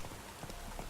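Horse hooves clop in the rain in The Witcher 3, a brief, faint burst of several soft hoofbeats over a hiss of rainfall, with no talk.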